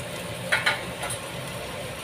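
Onions frying with a little turmeric in a pan over low gas, a soft steady sizzle with two brief louder scraping stirs near the start, no voices.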